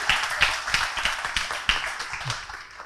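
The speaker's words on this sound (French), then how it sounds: "On peut tous vous applaudir" Participants at a talk on the Book of Revelation get a round of applause from the audience. Steady, fairly close clapping from a modest group runs throughout, with little talking over it.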